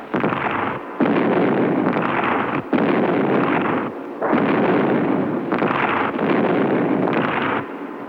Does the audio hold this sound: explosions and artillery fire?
yes